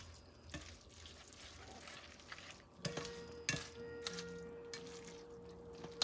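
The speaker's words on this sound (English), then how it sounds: "I think I'm going to actually maybe put another ladle of pasta water in here." Pasta water ladled into a pan of sweet Tropea red onions and spaghetti, giving a soft, steady watery sizzle and splash with a few sharp clinks of utensil against the pan, faint and close.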